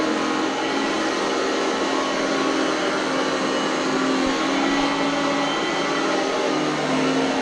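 An Oreck Elevate Conquer upright vacuum cleaner runs on household carpet with a loud, steady motor roar and whine, close by and unbroken throughout.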